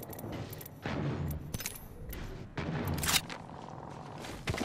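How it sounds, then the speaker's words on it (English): Gunfire in the video game Apex Legends, with several loud bursts of shots and sharp impacts during a firefight, close and dense, with no talk over it. "They're shooting at me."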